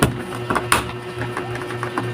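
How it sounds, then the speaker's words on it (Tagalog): An electric fan runs nearby with a steady, close hum, broken by a few scattered knocks and clicks during indoor electrical wiring work. "Maingay yung ating electric fan."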